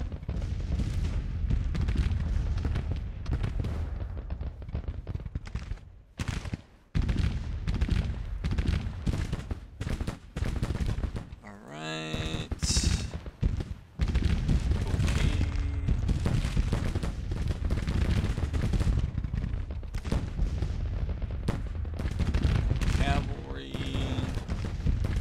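Battle gunfire in a war game: repeated musket volleys and booming cannon-like blasts, loud and close, bursting at irregular intervals with brief quieter gaps, mixed with other game effects.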